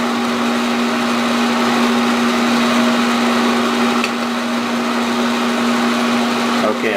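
A machine makes the first depth cut on a spline with oil added, giving a loud, steady motorized whine with a strong sustained hum, continuous and close, with a faint click near the end.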